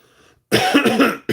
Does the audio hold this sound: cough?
yes